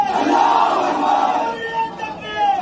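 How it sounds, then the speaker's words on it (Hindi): A large crowd chants slogans outside an accused man's house in Kanpur, a dense, continuous roar of massed voices shouting together, loud and sustained throughout with rising and falling surges. "भीड़ लगातार नारे लगाती रही"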